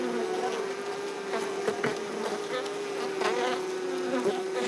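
Bees buzz close by in a steady, continuous drone. Individual buzzes swell and fade now and then over the hum.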